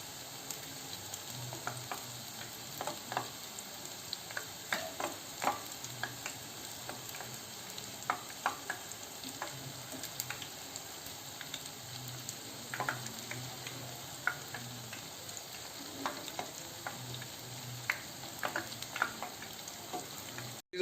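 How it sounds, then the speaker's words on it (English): Jalebi batter frying in hot oil makes a steady, gentle sizzle with small crackling pops scattered throughout, close and fairly quiet, continuing without interruption. "Let it fry."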